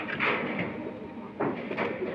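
Newly paired pigeons coo inside a cage, a soft, close, throaty cooing that repeats in short bursts over a steady noisy background.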